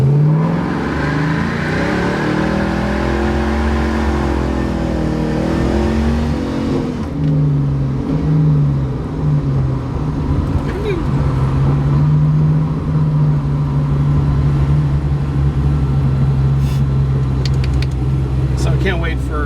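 A 1969 Rambler Rogue's freshly built engine, about 219 miles in and still being broken in, revs repeatedly at close range, its rising and falling drone carrying steadily beneath people talking.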